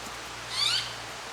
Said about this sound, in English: Now we got a bird singing.